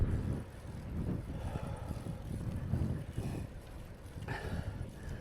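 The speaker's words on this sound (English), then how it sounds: "I'm rolling into a headwind." Steady low wind rumble and buffeting while riding a bicycle into a headwind on a paved town trail, continuous and fairly loud throughout with no talking.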